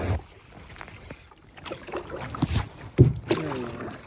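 Canoe paddle strokes on Bennett Lake, with soft rhythmic water swishes and drips close by under light wind noise, no talking.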